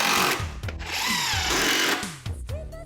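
Power saw cutting close and loud in short bursts of grinding, rasping whine with pitch shifts as the blade bites, briefly pausing before resuming near the end.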